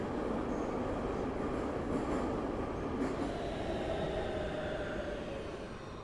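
Subway train ride in the video game Big Ambitions: continuous rumbling rail noise with wheel squeal and faint clicking, steady and moderately loud, easing slightly toward the end.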